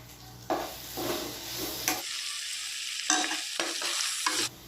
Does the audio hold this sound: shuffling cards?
no